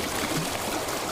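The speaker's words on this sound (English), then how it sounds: "What you have is the sound of water." Water of the Foster City lagoon, a continuous broadband wash of lapping, gently moving water heard close and fairly loud, with no speech.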